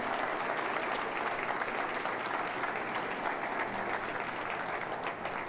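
A church congregation claps loudly and continuously, many hands blending into a sustained, even roar of applause with no speech over it.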